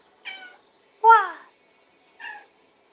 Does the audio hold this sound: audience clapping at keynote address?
no